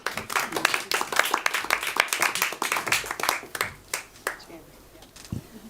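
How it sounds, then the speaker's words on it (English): Audience applause for speakers at a forum on European solar panels in North Africa: many hands clapping loudly and unevenly near the mic, thinning toward the end, with some voices underneath. "Give them a hand of applause."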